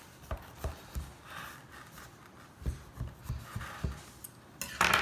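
A knife cuts a sponge cake free around the sides of a tube pan, giving a series of soft, rhythmic scraping taps close by, with a brighter metallic scrape at the end.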